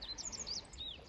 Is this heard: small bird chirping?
yes